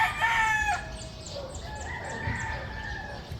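A rooster crows once, loud and close, its call trailing off, followed by softer clucking and distant birdsong.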